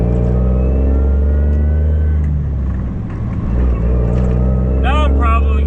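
Loud, close idling engine hum of a truck cab while a car passes by on a narrow road, the passing vehicle's swell rising and fading midway.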